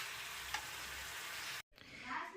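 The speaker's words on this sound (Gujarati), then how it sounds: "આ બાજુ કોબીનો વઘાર પણ આપણે કરી નાખ્યો છે હવે એને ધીમે ધીમે ગેસે ચડવા દઈશું" Cabbage tempering sizzles in a pan on a gas stove, a soft, steady frying hiss heard close, with a brief cut partway through before the sizzle resumes.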